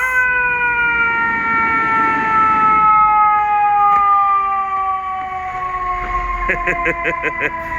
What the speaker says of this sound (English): Nice and loud fire truck.